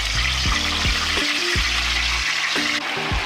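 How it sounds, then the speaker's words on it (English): A whole turkey lowered slowly into a pot of hot frying oil sizzles and bubbles continuously, a dense, close hiss with occasional low clanks and thumps from the pot, no voices. "You want to go in slowly. If you try to hurry up and drop it in, it'll bubble over. As you can see, she's starting to bubble right now."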